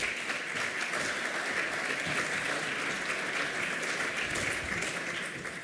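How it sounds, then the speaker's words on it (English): An audience at a blockchain hackathon pitch final in Stuttgart gives a team steady, sustained applause, dense clapping that holds at an even level from start to finish with no talk. "Big applause."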